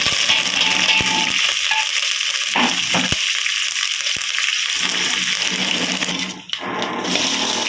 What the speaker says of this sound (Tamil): இப்படி சட சடன் பொரிஞ்சு வரணும்